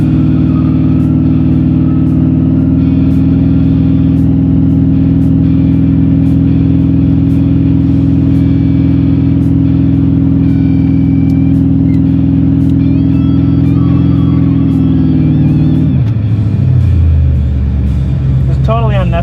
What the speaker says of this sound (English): Foot on the brake, gas pedal. This is a burnout.